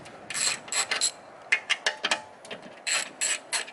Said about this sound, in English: now we got to take these two nuts off of here